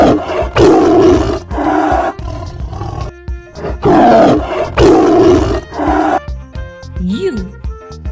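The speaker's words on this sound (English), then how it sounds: "T is for tiger." A cartoon tiger roars loudly several times in a children's animated alphabet lesson, each deep roar swelling and fading in bursts, followed by a short rising musical sting.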